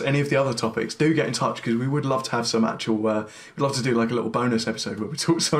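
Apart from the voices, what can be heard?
None of the usual background noises is heard.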